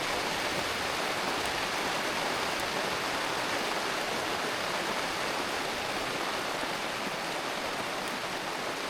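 Rain falling steadily outdoors, a constant dense hiss with no variation and no voices.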